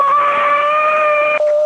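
Ghost scream in the horror game Phasmophobia, a loud, sustained, eerie tonal wail held steady for over a second before breaking off abruptly and trailing briefly, with no talk over it.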